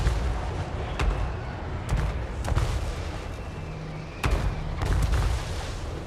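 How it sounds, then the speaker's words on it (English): Artillery fire in the video game Total War: Warhammer 3, with a handful of heavy booming impacts at irregular intervals over a constant rumbling battlefield din. "just as the artillery hits"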